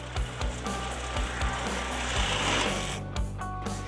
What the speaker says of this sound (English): the extended section can be trimmed off, which can be done with a Sawzall.